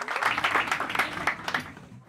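An audience at a band performance show claps warmly to welcome the group, a short burst of loud applause that swells and then fades after about two seconds.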